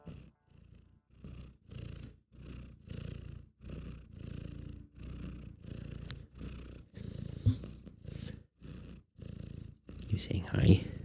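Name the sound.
cat purring into the microphone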